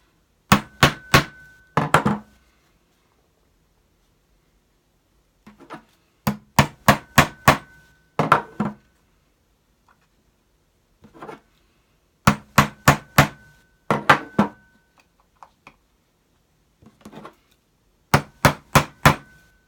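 Sharp hammer blows striking rivets into a fabric quiet book binding in quick bursts of three to five, separated by short pauses, loud and close with no talking.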